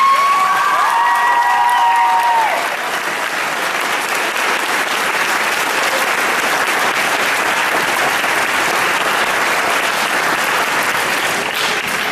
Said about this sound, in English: So if you could give Mrs. Saunders a round of applause, that would be great